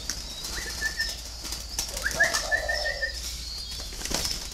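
A spotted dove being handled for deworming flaps its wings in short bursts, with soft rustling and a few brief calls. The sounds are close and fairly quiet, with gaps between them.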